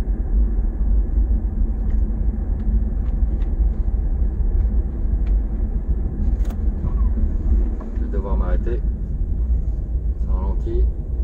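A car drives through Paris traffic in the 13th arrondissement, heard from inside as a steady low engine and road rumble, with a voice speaking briefly near the end.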